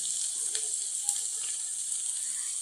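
Salt and spices sizzling in an oil-filled pan, a steady bright hiss throughout with faint scraping of stirring, quiet and close.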